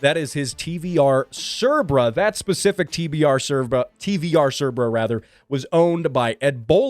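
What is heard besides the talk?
No everyday noise stands out behind the speech.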